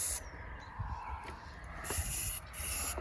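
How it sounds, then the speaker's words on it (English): An aerosol spray paint can marks the ground in a garden with a few sharp, hissing bursts, each lasting about a second, close by and over a quiet outdoor background. "a mark with the spray paint."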